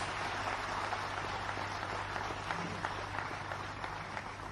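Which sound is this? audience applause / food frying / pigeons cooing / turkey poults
audience applause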